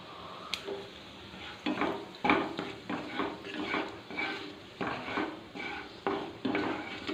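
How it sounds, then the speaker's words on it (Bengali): Cumin seeds sizzle in a hot kadai, a soft frying crackle broken by repeated clinks and scrapes of a spoon stirring against the pan, close and fairly quiet with no talk. "তারপর আমি কড়াইতে একটু জিরা, ফোড়নের জন্য একটু জিরে দিয়ে দেবো"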